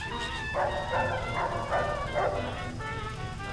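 Dogmeat, the canine companion in the video game Fallout 3, barks in a few rhythmic bursts over steady game background sound, moderately close and clear.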